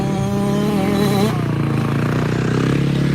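A motocross motorcycle churns through muddy ruts, its engine a steady, fairly close drone with a pitch that wavers before settling.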